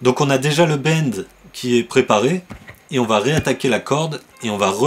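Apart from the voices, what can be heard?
No everyday noises stand out.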